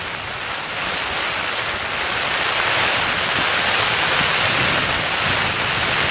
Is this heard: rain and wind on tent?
yes